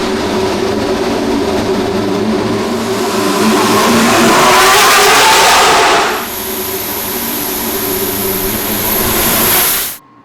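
An F1 car accelerates through a parking garage, a loud roaring rev that swells to a peak, then drops to a high whine as it pulls away, echoing in the enclosed concrete space.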